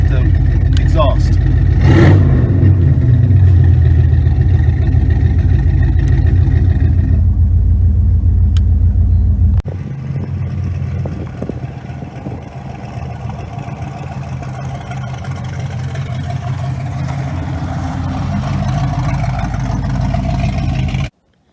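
A 1983 Chevy Camaro Z28 hot rod engine with its exhaust cutout open, a loud, deep rumbling idle with a sharp rev blip early on, then a lower steady rumble after a sudden drop in level.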